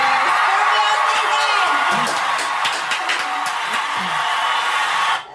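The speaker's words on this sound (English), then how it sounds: "Where's the applause button?" Canned applause and cheering triggered from an applause button at a live birthday gathering, a loud bright burst of clapping and whoops that holds steady for about five seconds and then cuts off abruptly.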